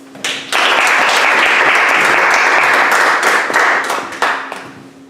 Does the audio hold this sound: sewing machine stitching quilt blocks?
no